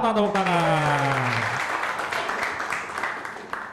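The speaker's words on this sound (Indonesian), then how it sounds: "Tepuk tangan." Studio audience applauds at an Indonesian talk show, a dense wash of clapping that holds steady and slowly thins out, with a brief tonal voice-like sweep at the start.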